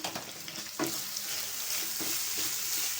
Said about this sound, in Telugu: ఉప్పు కారం రొయ్యలకి ఇలా పట్టిలాగా ఒకసారి వేయించండి